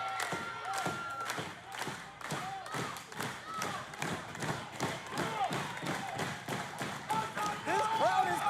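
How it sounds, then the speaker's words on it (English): A wrestling crowd at an indoor independent match claps and stomps in a steady, rhythmic beat, lively and continuous, with a voice faintly audible underneath. "This crowd is coming alive to Shannon the Dude"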